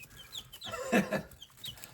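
Chickens clucking softly in a short burst of several quick, faint calls close by, with no talking.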